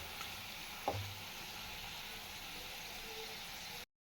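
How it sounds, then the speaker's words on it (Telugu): Onion slices fry in oil in a pan while being turned, giving a faint, steady hiss with one soft clack of the utensil, and no voices. "ఇలా అటు ఇటు తిప్పుతూ ఫ్రై చేసుకోవాలి అన్ని ముక్కలన్నీ బాగా"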